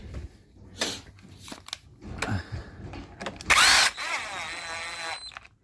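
A power gun runs tensioner bolts down on a 2V 4.6 engine with short, loud whirring bursts between pauses and clanks of handling, the final burst strongest.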